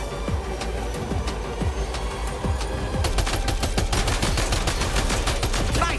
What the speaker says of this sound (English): I didn't even know you could shoot when driving.